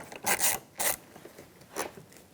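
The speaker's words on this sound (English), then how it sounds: "screw right out, Phillips head." A Phillips head screw being unscrewed from the inner handle of a 2013-2018 Toyota RAV4 front door panel, several short close raspy grinding turns with brief pauses between them.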